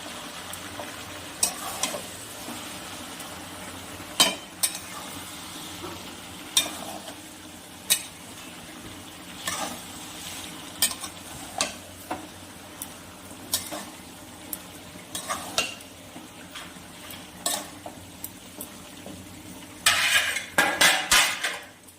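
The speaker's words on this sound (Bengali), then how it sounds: "এবার আবারও নাড়াচাড়া করে নেব" Katla fish curry with potato and eggplant stirred in an oily pan, a soft continuous sizzle under repeated metal spatula scrapes and knocks, growing busier toward the end, close with no talking.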